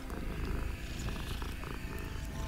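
A cat purrs in the video game Hogwarts Legacy, a soft, continuous rolling rumble that holds steady for the whole moment, low and gentle under faint game ambience.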